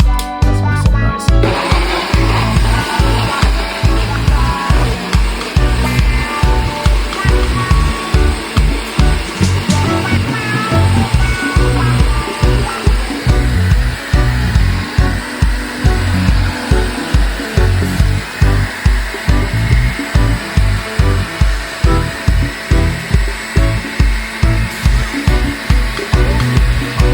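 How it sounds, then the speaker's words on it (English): A countertop blender whirs loudly and steadily while blending green juice, the motor's roar holding for over twenty seconds with a pulsing, rhythmic churn as the contents circulate. "We're going to make some noise. Let's blend this up."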